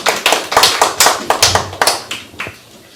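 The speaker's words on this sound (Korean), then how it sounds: "박수로 모시겠습니다" Applause at a Korean panel discussion as a speaker is welcomed, heard as a small group of close, loud, distinct hand claps in a quick uneven rhythm that thins out and fades after about two and a half seconds.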